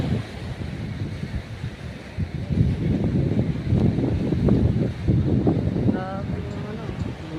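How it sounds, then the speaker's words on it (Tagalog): Strong gusting wind at a beach buffets the microphone over the rumble of surf, steady and loud throughout. "Ay, lakas ang hangin."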